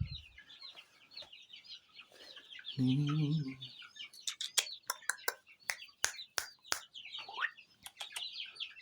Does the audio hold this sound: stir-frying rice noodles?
no